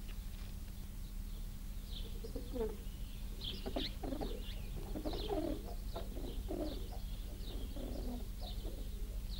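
Pigeons cooing steadily, soft throaty repeated coos from several birds close by, over a constant low hum.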